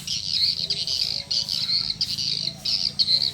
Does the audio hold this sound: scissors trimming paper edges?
no